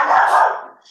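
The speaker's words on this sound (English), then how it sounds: "a dog's walking by." A dog lets out one loud, close bark as another dog is walked past outside, a single short burst with nothing else around it.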